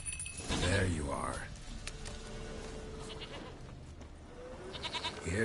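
Goat bleating in The Witcher video game, a couple of wavering bleats up close at the start, then quieter game ambience with faint clinks.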